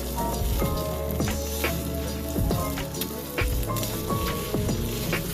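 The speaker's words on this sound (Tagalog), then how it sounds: "Tapos dito sinalang ko ng itlog." Eggs fry in a hot pan for a chayote and egg dish, giving a steady, close sizzle with crackling pops throughout and occasional scraping and clinks. There is no talking.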